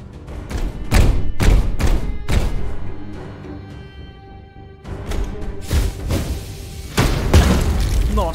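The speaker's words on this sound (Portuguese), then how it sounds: "Vamos tomar tiro do canhão ali." Heavy booming cannon thuds in Warhammer 40,000: Chaos Gate - Daemonhunters land one after another in a quick series, then resume after a lull, loud and close over a steady game soundtrack.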